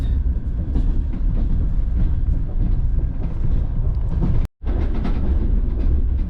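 A passenger train rumbles steadily inside a platskart sleeper car on a long Bishkek to Samara journey, wheels clacking over rail joints, loud and continuous with a brief dropout near the end.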